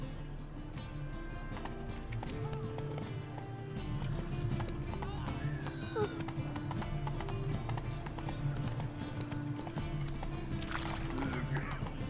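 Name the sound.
horse Roach galloping in video game The Witcher 3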